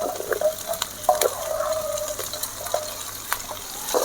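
Onion with ginger, garlic and green chilli is stir-fried in a pan for chilli egg, a busy sizzle broken by repeated scraping and stirring clatters of a spoon, close and fairly loud.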